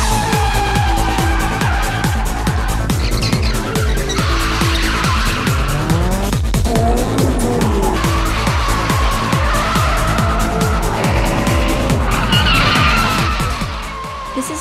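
Street racing cars drifting at night in the Nanko port warehouse district of Osaka, with a loud, close engine revving hard in repeated surges and continuous tire squeal and skidding throughout.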